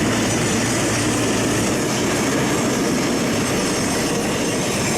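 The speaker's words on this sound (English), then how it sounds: "The train! So now you know how close we are to the train tracks." A train passes very close to the tracks at night, a loud, dense, unbroken roar of rumbling wheels and rushing wind that fills the whole stretch without any voices.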